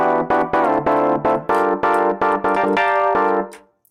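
Chords from a synth played in Ableton with its chord tool, marked by sudden octave jumps and pitch bends, sound in short rhythmic stabs and then a longer held chord. The sound is loud and close, with no voice over it.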